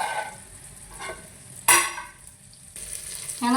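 Rice drops into hot oil in a cooking pot and sizzles in uneven bursts, with a sharp loud hiss partway through and another surge of frying at the end, with no talking.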